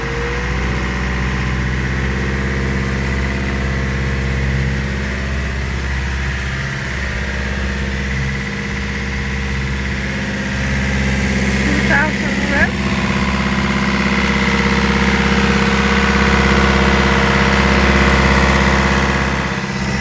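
A boat engine idles steadily after a full service with oil change, new impeller and new belts, a low, constant rumble and hum, close and loud, holding an even pitch throughout.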